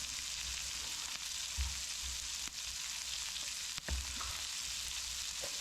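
Onion, mushrooms and green onion frying in a pan, a soft continuous sizzle heard alone with a couple of faint low knocks from the utensil.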